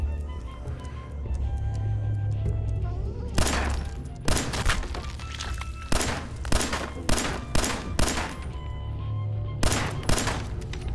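Gunfire in Fallout 4 VR during a Deathclaw attack: several loud single shots and short bursts ring out over a low ambient rumble, spaced irregularly through the second half.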